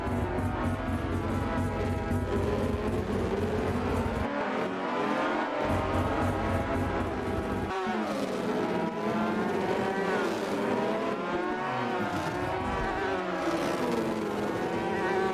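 Hotrod race cars circling The Rock Raceway during a national hotrod tour round, engines buzzing and droning steadily with rising and falling pitch as they shift up through the gears, a continuous loud pack of motors throughout.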